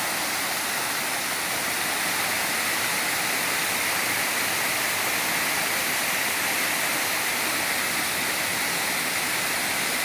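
A rain-swollen river rushes steadily nearby, a dense, loud, unbroken roar of flowing water with no pauses.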